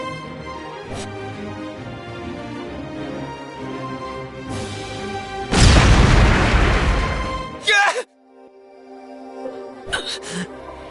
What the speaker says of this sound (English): From here, I'll use these fire magic crystals.